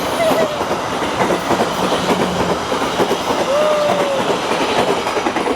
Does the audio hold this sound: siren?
no